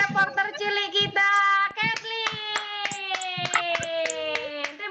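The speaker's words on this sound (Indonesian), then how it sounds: "Tepuk tangan buat reporter cilik kita" Clapping breaks out in a remote preschool class held over Zoom, sharp hand claps repeating steadily through the whole stretch while bright voices sing or call out over them, near and fairly loud.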